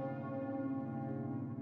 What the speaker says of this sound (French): les cloches de Notre-Dame qui rythment la vie parisienne depuis des siècles